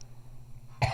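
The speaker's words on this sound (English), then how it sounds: "Sorry, I got a bit of a cough." A single short, dry cough near the end of an otherwise quiet moment, close and fairly loud.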